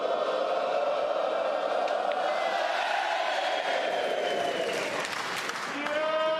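A snooker crowd at a Shoot Out final claps and cheers in a dense, steady roar of applause with whoops, filling the whole stretch, while a commentator's voice runs underneath.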